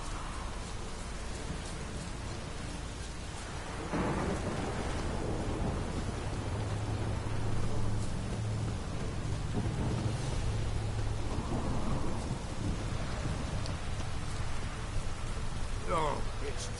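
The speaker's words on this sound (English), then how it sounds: "Oh, it's drizzling." Rain and thunder from a storm in The Witcher 3 video game. A steady hiss of rainfall runs throughout, with low rolling rumbles rising in the middle.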